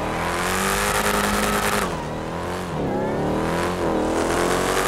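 A car in a GTA 5 drag race revs hard and accelerates, its loud, steady engine roar rising and dipping through gear changes from start to finish.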